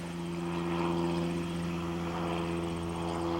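A seaplane's aircraft engine drones steadily with a deep propeller hum, loud and continuous throughout with no other sounds over it.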